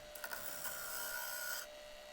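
A turning tool cuts a wooden bowl on a lathe, giving a steady hissing scrape with a faint whine that runs about a second and a half, then stops, leaving a low hum.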